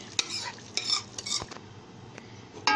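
A yogurt and onion mixture being stirred into chicken korma in a pot, with scraping spoon strokes and soft clinks over a wet, low sizzle, close and alone.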